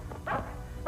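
A dog barks a few quick, faint yips and woofs in a short burst, heard alone without talk.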